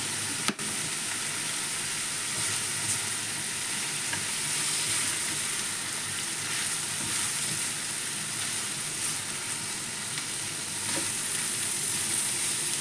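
Green beans and minced pork stir-frying in a pan, a steady, close sizzle and crackle of hot oil running evenly throughout with a faint stirring scrape, no voices.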